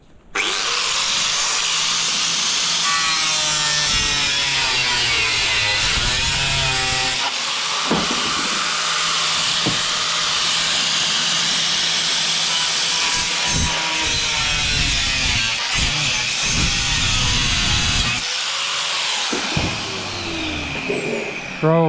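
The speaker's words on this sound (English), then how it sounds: "This is how you cut your aluminium" An angle grinder cuts through aluminium sheet with a loud, harsh, continuous screech whose pitch wavers as the disc bites. The cut breaks off with short pauses and bumps, and a voice is partly audible underneath.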